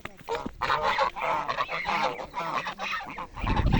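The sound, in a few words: geese honking at a pond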